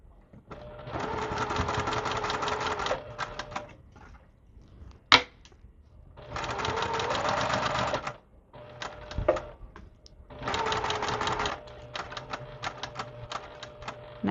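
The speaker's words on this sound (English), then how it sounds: "we're going to sew from the end to our dot and then pivot" A sewing machine stitches quilt fabric for a sampler quilt, running in three long sustained bursts separated by pauses, with brief clicks between runs; close and steady.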